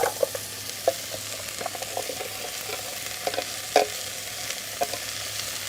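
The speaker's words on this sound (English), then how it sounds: "Now we're going to go ahead and add some butternut squash to that." Butternut squash chunks go into a pan of frying onion, a steady soft sizzle with faint scattered clicks and light stirring taps, no one speaking.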